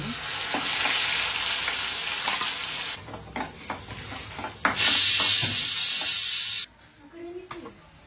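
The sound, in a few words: onion paste frying with cumin and mustard seeds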